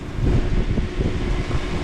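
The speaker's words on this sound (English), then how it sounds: "We have a very, very windy day today" Strong gusty wind buffets an outdoor microphone in Van Nuys, a steady low roar with surging rumble and no voices, close and loud throughout.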